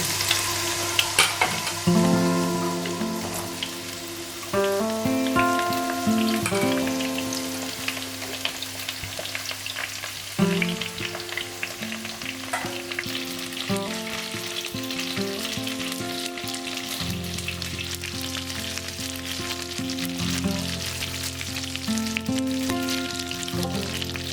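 Eggplant pieces fry in hot oil with a steady, dense sizzle that runs throughout, with occasional stirring and faint tonal background sounds, no voices.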